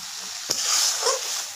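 Ghee going into a pan of frying papaya curry gives a steady close sizzle with a brief scrape of stirring, short and with no talking.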